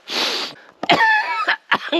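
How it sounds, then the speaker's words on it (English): A person in the Laurel Run Caverns coughs hard several times in quick bursts, close and loud, with raspy throat-clearing between fits. "I'm gonna be coughing for the next hour,"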